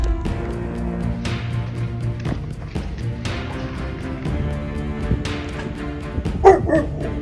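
A Shar Pei barks repeatedly in short, sharp bursts, fairly close, trapped on the fifth floor of a building, with a few higher yips and whimpers mixed in and no talking.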